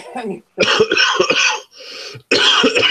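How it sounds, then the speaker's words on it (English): A series of loud, harsh coughs in quick bursts, close to the microphone, with short gaps between them. "Get me laughing and all coughing up a storm."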